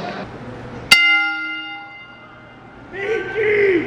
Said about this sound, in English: we ask that you all rise as we honor the life of WWE Hall of Famer Mean Gene Okerlund with a 10-bell salute